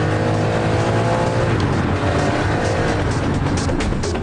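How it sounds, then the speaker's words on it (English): A McLaren F1 sports car with a 627-horsepower 12-cylinder engine drives fast, its loud, harmonic engine howl rising in pitch under acceleration and staying close and continuous throughout. "The F1's 12-cylinder engine generates 627 horsepower."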